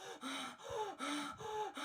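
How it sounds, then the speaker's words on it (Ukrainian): A person demonstrates panic-attack breathing with rapid, forceful gasping breaths, about five quick in-and-out pulls in close succession, near and fairly loud. "під час панічної атаки людина починає дуже інтенсивно хватати воздух"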